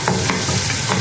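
Tomatoes sauté in a pan for sundakkai vathal kuzhambu, giving a loud, steady sizzle close by with a few soft stirring strokes and no speech.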